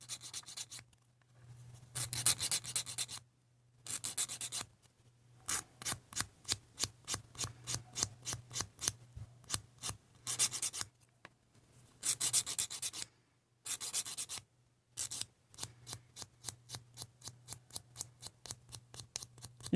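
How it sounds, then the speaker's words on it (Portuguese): The coarse side of a nail file sands the tip of a wooden toothpick in rapid, rhythmic rasping strokes, close and faint, coming in repeated bursts with short pauses between. "com a parte mais áspera, mais grossinha da lixa de unha, eu vou lixar essa pontinha até fazer ele ficar mais pontiagudo"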